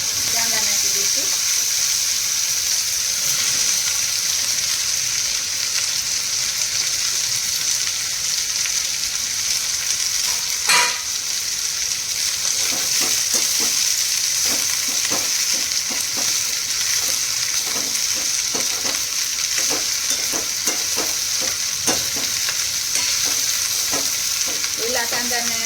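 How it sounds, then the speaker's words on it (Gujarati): Onions, curry leaves, asafoetida and garam masala fry in a pan for smoky baingan bharta, giving a steady, close sizzle with occasional stirring clicks and no talking. "થોડીક હિંગ નાખવાની અને થોડો ગરમ મસાલો નાખી, લીમડાના પાન, કાંદા નાખી દઈશું"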